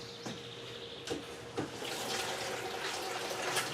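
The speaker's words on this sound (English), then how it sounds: "And then if I need, then I'll add some cool water" Cool water is poured into a hot oat whiskey mash, a steady rushing splash that starts faint with a few drips and grows fuller and continuous over several seconds.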